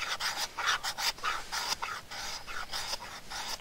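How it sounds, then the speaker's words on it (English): The back of a knife blade scraping shavings off a ferro rod onto a log, producing a close, steady series of raspy strokes in a quick, even rhythm. "we're going to take the back of our knife and we're just going to start to slowly scrape shavings off of this rod in a small pile"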